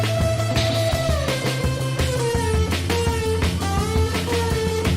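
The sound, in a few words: electric guitar riff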